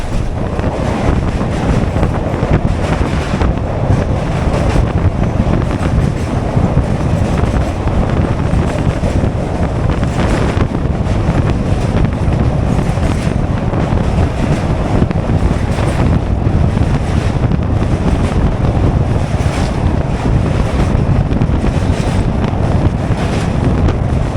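The Howrah–Haldia fast local train rolls along in a constant loud rumble with windy roar and rattle, unbroken throughout and heard from on board.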